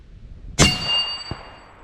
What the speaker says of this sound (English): We'll try to smack the little plate.